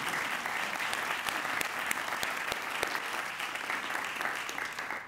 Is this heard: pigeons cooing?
no